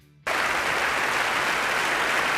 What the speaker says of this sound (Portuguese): a plateia aplaudiu o cara por 1 minuto inteiro